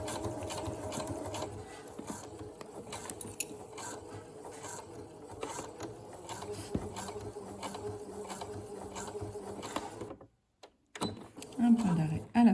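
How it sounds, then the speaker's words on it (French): A sewing machine runs steadily, stitching piping onto fabric with a continuous buzzing hum, then stops abruptly near the end, where a brief rustle follows; someone speaks quietly over parts of it. "Et donc on coud tout le long."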